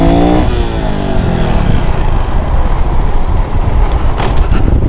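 Honda Pop 110 motorcycle engine revving loudly up close, a rising buzzy whine that settles into a steady, rough drone as the bike rides along, with wind noise throughout.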